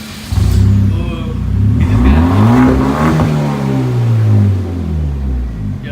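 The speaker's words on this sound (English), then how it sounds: "Rev it up, bro." A car engine revving hard at a car meet, a deep rumbling exhaust climbing and falling in pitch across several sustained revs, close and loud, with brief voices in the background.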